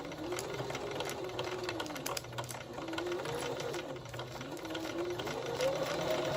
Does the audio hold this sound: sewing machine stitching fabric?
yes